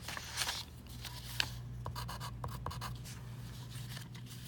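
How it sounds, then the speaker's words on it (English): A pen scratches across paper in short, close strokes, a few quick marks following one another over a faint steady low hum. "So I'm gonna go back and write it."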